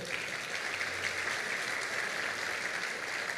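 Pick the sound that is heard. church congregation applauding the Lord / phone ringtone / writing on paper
church congregation applauding the Lord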